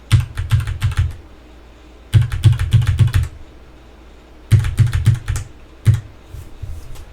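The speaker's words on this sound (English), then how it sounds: "hit the arrow key on my keyboard" Rapid clicking keystrokes on a computer keyboard come in three quick bursts separated by short pauses, then a single keypress and a few lighter taps, close up and with no voices.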